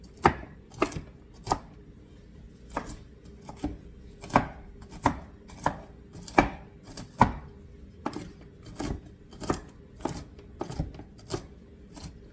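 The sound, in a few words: chopping walnuts coarsely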